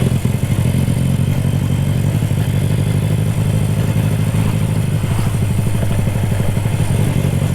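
A Yamaha Vega R 200cc two-cylinder motorcycle engine revs up close, a steady loud rumble with rhythmic pulsing that swells and eases, no talking over it.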